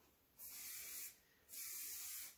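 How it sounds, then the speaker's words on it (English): Two close bursts of an organic curl finishing spray are misted onto damp hair, each a soft sustained hiss lasting well under a second, separated by a short pause. "I'll mist the finishing spray in and I'll finalize that curl."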